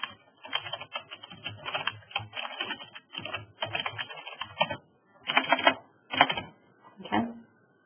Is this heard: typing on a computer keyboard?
yes